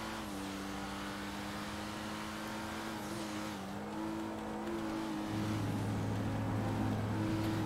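A car in a video game driving away, its engine humming steadily and shifting pitch as it accelerates, loud and close throughout.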